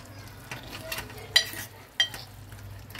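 Curry simmering and frying in oil in a pan: a faint, continuous sizzle with a couple of sharp utensil clicks against the pan.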